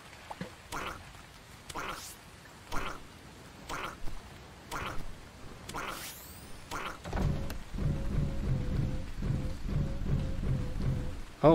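Rain hisses steadily in the video game Starbound while low rumbling thunder rolls in and grows heavier, with regular thudding pulses before it.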